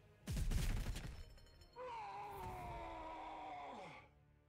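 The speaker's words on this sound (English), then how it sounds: "Just absolute machine guns everywhere" Rapid machine gun fire bursts out in Warhammer 40k Warpforge, a dense rattling volley, then a drawn-out falling tonal effect like a creature groan fades away, with no speech.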